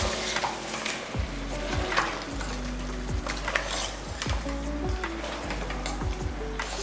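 Mutton gravy masala with chilli powder sautés in a pan, a continuous close sizzle broken by regular scraping strokes of a spoon against the metal, about one stir per second, with a low background hum.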